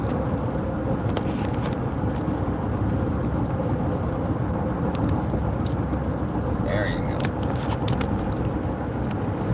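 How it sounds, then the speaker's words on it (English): Cars pass along a road, heard from inside a moving car: a steady road rumble and tyre noise with occasional swells as vehicles go by, and a person talking over it. "there's all kinds of cars out here today"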